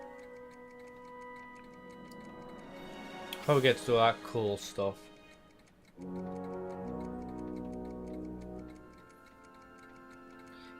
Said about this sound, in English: Kitty cat clock.